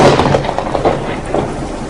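Heavy rain with a deep rolling rumble of thunder, loud and continuous throughout.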